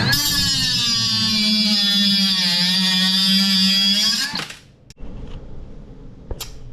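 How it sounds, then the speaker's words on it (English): A power tool trims excess material flush on a replacement jon boat transom, whining loudly and steadily at close range for about four seconds before winding down, followed by a few faint knocks. "I'm gonna trim all these off"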